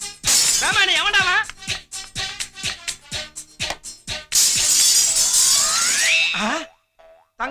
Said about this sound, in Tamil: இந்த ஜன்னல் உடைஞ்சிடுச்சே